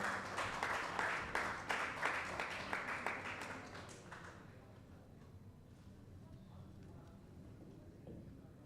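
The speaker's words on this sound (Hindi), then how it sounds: "जोरदार ताली एक बार मैम के लिए।" Audience applause at an open mic segment of an awards event, a dense patter of clapping lasting about four seconds before fading into quiet room tone.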